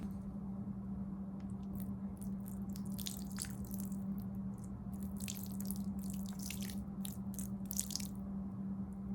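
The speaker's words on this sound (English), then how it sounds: "Not a hard flow. It's like a drip, drip, drip, drip, drip." Water drips slowly through soil in a fabric pot for a bare-root cherry tree planting, making irregular soft ticks and patters over a quiet background hum.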